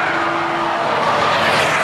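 Japanese sports cars such as a Supra and an Evo IV race hard on a track, with a loud, brief roar of engines and a squeal of tyres into a corner.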